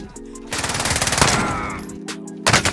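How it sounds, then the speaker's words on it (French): Rapid automatic gunfire in Call of Duty Warzone, a fast burst of close, loud shots lasting over a second, followed by a couple of sharper single bangs near the end. "on m'envoie des balles sur le parking"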